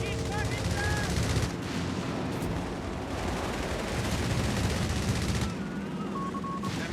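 Sustained strafing-run gunfire in Company of Heroes 3, a dense continuous rattle of automatic fire with booming impacts filling the whole stretch, loud and close, with a commentator's voice faintly beneath.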